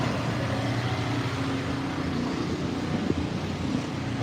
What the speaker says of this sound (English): let me get away from those engines